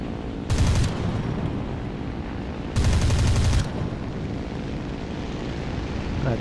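Bursts of aircraft gunfire from an I-185 fighter in a War Thunder air battle: two loud, rapid-fire volleys, each just under a second, separated by a steady droning engine.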